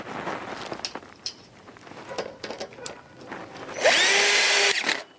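A power drill drives a screw into a metal connector on a gothic-style hoophouse frame, one short loud whirring burst near the end after quieter handling clatter.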